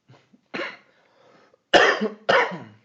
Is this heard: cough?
yes